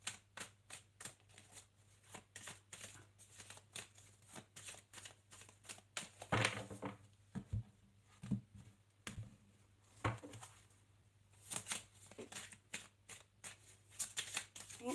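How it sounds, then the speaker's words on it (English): Quiet close-up shuffling of a tarot deck gives a soft, irregular run of card flicks and riffles, with a few louder slaps midway through and a faint steady hum underneath. "I'm just going to shuffle all the cards so they're ready."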